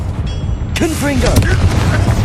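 Confringo blasting spell going off in Hogwarts Legacy, a sharp burst around a second in with crackling debris, under shouted voice lines and steady low game rumble.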